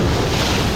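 Strong sea waves surge under gusting wind in a short, loud, unbroken burst of rushing, roaring noise close to the microphone.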